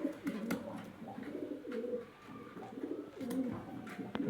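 A male Tiger Chini pigeon coos in soft, repeated rolling phrases, close by and fairly quiet, with no talk over it.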